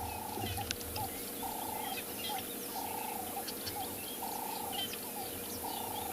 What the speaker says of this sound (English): I can hear so many different bird calls.